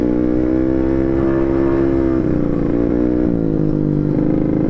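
A 150cc motorcycle engine accelerates nearby, its rising drone stepping up through gear changes with a throaty, buzzing tone and no talk over it.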